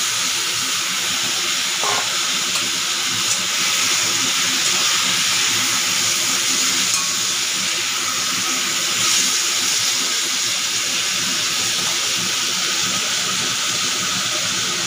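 Boiled drumstick stalks frying in a pan with garlic and fish, a continuous dense hiss and sizzle, steady and close throughout without pauses or voices.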